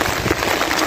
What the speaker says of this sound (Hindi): भाई आपको ना थोड़ी सी बारिश का सीन